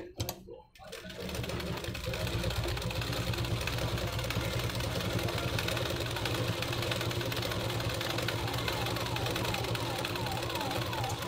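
A sewing machine runs steadily and close by, stitching a neck blouse in a continuous rapid whir after a brief start, with no talking.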